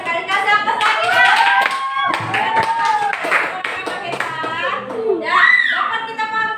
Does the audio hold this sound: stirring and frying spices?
no